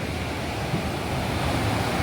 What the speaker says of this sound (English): these are huge waves, but they're just crashing